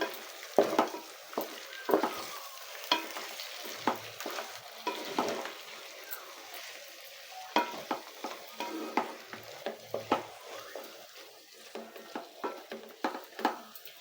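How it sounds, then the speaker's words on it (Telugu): Chicken curry with masala being stirred in a frying pan, a spoon scraping and thumping against the pan in irregular strokes over a steady close sizzle, with no talking. "ఇప్పుడు బాగా కలుపుకోవాలండి, మసాలా కూడా ముక్కకి పట్టేలాగా."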